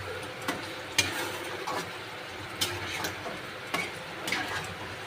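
Butter chicken with coriander leaves being lightly stirred in a pan, a soft low sizzle broken by several sharp spoon taps against the pan, close and faint.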